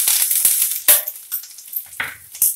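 Curry leaves, green chilies and tempering spices hit hot oil in short bursts of crackling sizzle and spitting pops, loud and close, with small gaps between the bursts and no voices.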